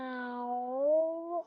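A human voice imitates a cat's meow, a single drawn-out, rising-then-falling mew heard up close and alone, with clear voiced harmonics, as part of a told story about a pet kitty by a fireside.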